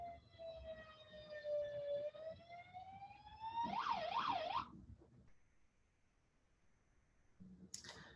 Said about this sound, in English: I don't know if you can hear the sirens outside.